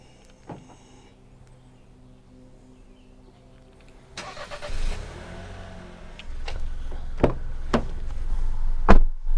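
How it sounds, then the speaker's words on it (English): A 2026 Chevrolet Trax LT engine cranks and catches via remote start, settling into a steady idle with a few sharp clicks, heard up close with no talking. "remote engine start."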